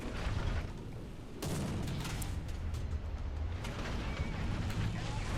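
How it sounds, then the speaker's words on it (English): Artillery shells landing in War Thunder tank combat around a German E-100 heavy tank, a dense roar of booms and rumbling blasts with a sharp impact partway through, loud and continuous. "Artillery is getting dropped on our position."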